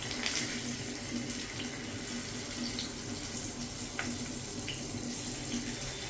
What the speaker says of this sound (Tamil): இதை நம்ம ஃப்ரை பண்ணி எடுத்துக்கலாம்.